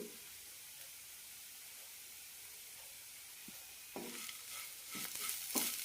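Grated coconut and coriander leaves are tossed into a hot pan with roasted onion for a sesame chutney, giving a soft steady sizzle with a few scraping stirs toward the end.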